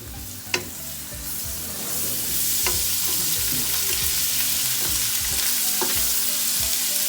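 Ndakala, small dried fish, fry in oil with a steady broadband sizzle that swells after the first couple of seconds, broken by a few sharp clicks and pops; close and continuous, with no voices.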